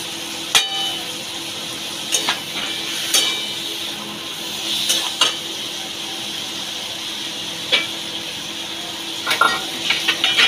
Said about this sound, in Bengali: এইটার মধ্যেই দেবো এই যে আমি যে আদা রসুনটা বেটে রেখেছিলাম সেটা দেবো।